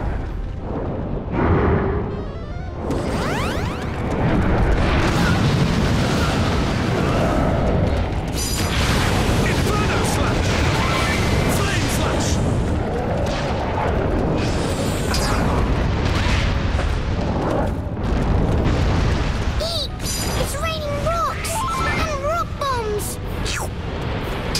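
Booming blasts and bursting pops from Dragon Quest Heroes battle, heavy and continuous under a dense layer of game noise, with a voice talking over the fighting throughout.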